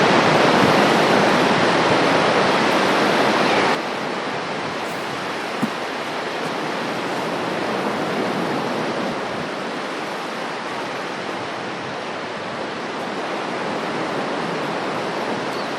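Floodwaters rush through Roswell, New Mexico in a loud, continuous broadband roar that drops to a steadier, slightly softer wash partway through, with no voices.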